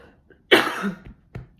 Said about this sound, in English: Because I'm going to have a coughing fit